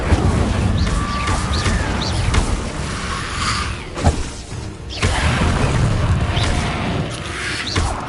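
In Hogwarts Legacy, the Incendio fire spell is cast amid busy game action: whooshing bursts and booming crashes rise over a constant dense wash of sound, with a sharp impact near the middle.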